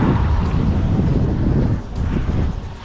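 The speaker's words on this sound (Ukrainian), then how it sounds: "який вітер зимний" Strong, cold wind on a mountain pass buffets the microphone in a continuous low rumbling roar, loud and close, easing slightly near the end.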